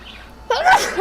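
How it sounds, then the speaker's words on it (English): One loud, close human sneeze bursts out suddenly after a brief quiet intake, then trails off quickly, heard alone indoors. "I'm gonna fucking sneeze."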